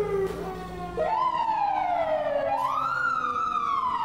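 An FDNY fire engine siren in Manhattan wails loudly and nearby, its rising and falling tone sweeping up twice over steady street noise, with no talk.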